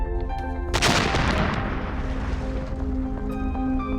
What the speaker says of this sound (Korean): 대포에서 포탄을 발사하면 적당한 거리를 날다가 지구로 떨어집니다.